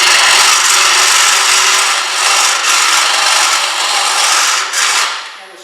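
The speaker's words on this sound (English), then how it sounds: "So we're trying to widen what we drilled out." A Jamieson hollowing tool widens a drilled hole in wood on a lathe, producing a loud, continuous scraping hiss with slight surges and dips before easing off at the end.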